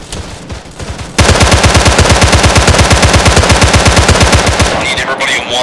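Rapid automatic gunfire from an Arma 3 infantry assault on a town erupts after a quieter opening and keeps hammering in dense, loud, sustained bursts, with a faint voice in the background.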